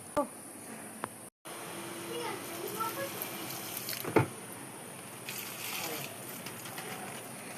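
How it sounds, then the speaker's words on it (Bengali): Water is poured over potted garden plants, including chilli seedlings and a gardenia, as a steady, soft splashing trickle with a brief dropout and one sharp knock midway. Faint voices sit in the background. "আমার সব গাছে জল দেওয়া হয়ে গেল"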